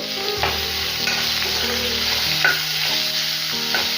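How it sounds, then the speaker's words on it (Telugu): Grated ginger and onions stir-frying in a pan for a ladyfinger curry, with a continuous close sizzle, spatula scraping and clattering throughout, no voices. "అల్లము ఇలా తురిమేసి యాడ్ చేస్తున్నాను అలాగే ఉల్లిపాయలు కూడా యాడ్ చేసేసుకొని బాగా ఫ్రై చేసుకోవాలి"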